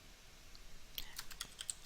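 Soft, quick keyboard typing close by, a short burst of several clicky keystrokes after a quiet pause, over a faint background hiss, as a name is entered on a computer.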